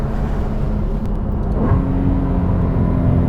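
Porsche 981 Cayman S with Fabspeed F1 headers, its exhaust droning steady and loud from close by as the engine pulls, with a brief rise in pitch partway through like a rev or downshift.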